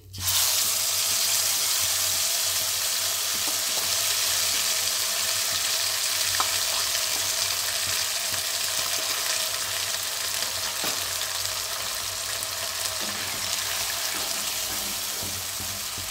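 Green chilies, tomato and ginger paste hit tempered oil, a loud, steady sizzle and crackle that goes on for a long stretch, with a few clinks of stirring.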